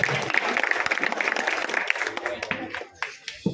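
Audience at an Urdu mushaira poetry recital claps to invite a poet to recite couplets, a short burst of moderately loud clapping that thins out toward the end with a few scattered claps.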